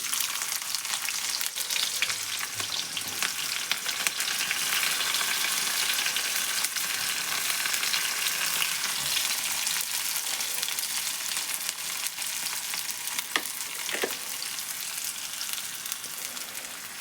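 Cumin seeds and chopped onions fry in a pan with a steady, dense sizzle that holds loud and close throughout, broken by a few faint stirring clicks.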